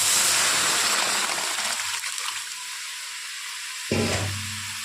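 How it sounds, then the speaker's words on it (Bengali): Vegetable curry poured into a hot pan, giving a loud, close sizzle with a watery rush that settles, then swells briefly again near the end. "আমি তরকারিটাকে এর মধ্যে ঢেলে দেবো"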